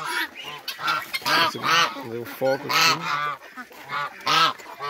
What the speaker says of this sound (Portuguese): Os gansos gritam demais e acaba atrapalhando a gente.